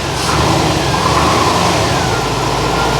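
A barn-find Corvette C4 ZR-1 with a very weak battery runs with a loud, steady engine drone close by, then stalls.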